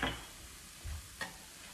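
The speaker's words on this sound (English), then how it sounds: "now I'm adding the other chili sliced up" Sliced chili going into a hot wok for a chicken stir-fry, giving a soft, steady sizzle with a few faint scrapes and taps of stirring, no voices.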